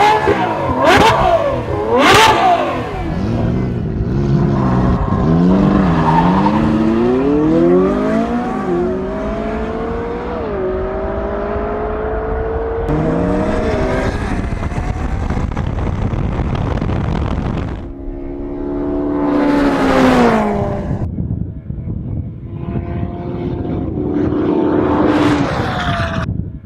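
A McLaren 570S and a Ferrari F12 drag race, with loud engines revving hard and climbing through gear changes, rising and dropping in pitch as the cars launch and pass, then further revving bursts.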